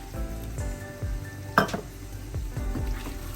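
Prawn curry with tamarind sautés in a pan, a constant close sizzle under rhythmic stirring strokes and one sharp clink of the utensil against the pan, with no talking.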